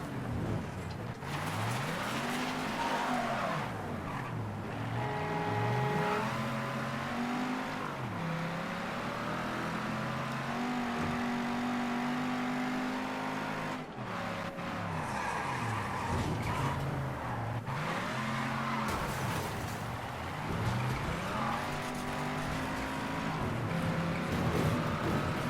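A car in the Mafia III video game drives hard with a steady engine roar, repeatedly swerving and skidding with tire squeals that rise and fall through a continuous run of driving.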